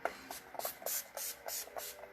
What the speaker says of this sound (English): I can go ahead and do my setting spray so it'll stay 16 hours